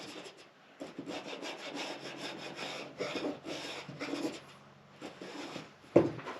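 A Veritas pocket plane cuts a small chamfer along a wood edge, giving a run of close, continuous rasping strokes with a sharper knock near the end.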